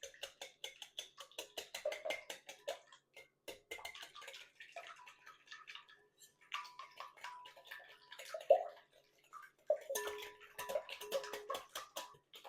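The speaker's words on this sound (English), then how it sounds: "Then you want to whisk them together." Eggs being whisked together in a bowl for a jalapeño sausage quiche, heard as rapid, steady clicking taps of the whisk against the bowl in bursts, close and fairly quiet, with no talking.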